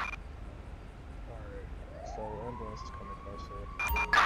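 A rising, steady emergency siren wails in a GTA V police-mod scene as a fire truck responds code 3, starting faint and swelling over a low bed of game noise, with a louder burst near the end and brief voice-like bits.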